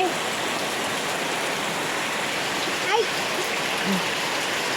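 Steady rain hisses with no break, a broad even wash of falling water, with a faint short chirp partway through.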